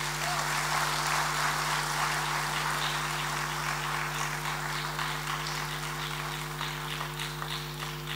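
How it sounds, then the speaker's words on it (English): Audience applause at a university leadership lecture, a steady close wash of clapping that holds evenly for several seconds over a constant low electrical hum. "with a resounding applause, let's welcome today's honored guest, Mr. Kwame Pianim."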